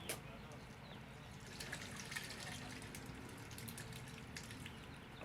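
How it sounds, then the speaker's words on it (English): Settled liquid being poured off the top of a seafood bouillabaisse with crab legs, a steady low trickle and gush running continuously under faint background noise. "it has a settled liquid top because it was a soup after all. So I'm going to pour that off first."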